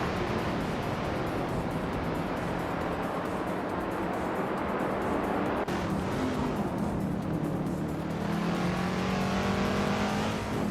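Race cars in a video game roar continuously, a dense engine drone with a higher whining pitch rising near the end as cars accelerate; no talking.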